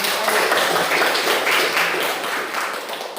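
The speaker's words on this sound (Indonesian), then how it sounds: "Tepuk tangan" Students in a classroom clap together after a group activity, a dense burst of applause lasting a few seconds and fading slightly at the end.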